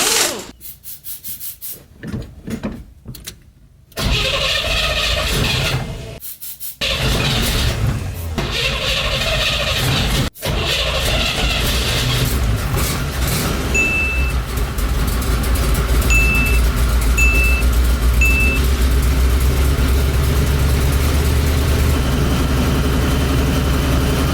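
A 1970 Corvette LT1 V8, a barn find, idles steadily at about 800 RPM, a continuous low rumble that starts after a few seconds of handling noise and carries to the end, with brief scraping sounds near the start.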